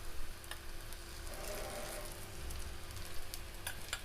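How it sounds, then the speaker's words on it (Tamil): Wheat parotta cooks in oil on a pan with a soft, steady sizzle and faint crackling pops, close and fairly quiet. "இன்னொரு பக்கத்துக்கு எண்ணெய் ஊற்றி வேக விடலாம்."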